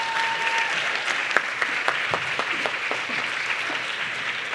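Sustained applause from attendees at an academic annual meeting, an even, moderately distant patter of many hands clapping, with no voices over it.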